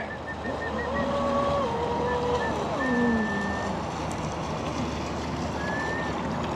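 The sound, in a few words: Sonicwake RC boat with Hydra X8 ESC running on water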